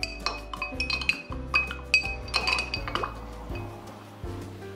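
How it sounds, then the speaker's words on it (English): Ice pieces dropped into glasses of homemade whisky give a series of sharp glassy clinks and knocks, loud and close, over background music. "we put a piece of ice into both glasses and leave it for 2 minutes"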